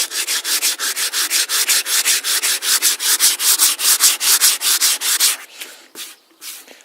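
Rapid rhythmic back-and-forth hand sanding on wood, raising sawdust to mix with glue as filler for a crack in a sewing machine table; loud and close, about four strokes per second, then slowing to a few scattered rubs.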